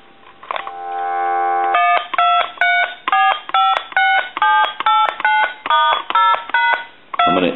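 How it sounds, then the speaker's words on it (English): Touch-tone dialing on a Harris TS22 lineman's buttset: a steady dial tone, then a quick run of about a dozen evenly spaced DTMF beeps, loud and close, with a short burst at the end. "Gonna dial our numbers."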